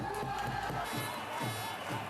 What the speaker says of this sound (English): Just look at this crowd.